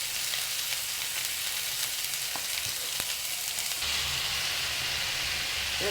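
Onion paste and ground turmeric frying in a pan for a dish of small fish with potato and drumstick, a dense, steady close sizzle with faint scraping ticks, no speech.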